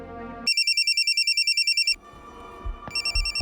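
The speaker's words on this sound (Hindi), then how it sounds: "पंकज का फोन है" A phone rings with a rapid electronic trilling tone, a burst of pulsing beeps, a brief pause with faint background noise and thumps, then the ringing resumes, loud and close.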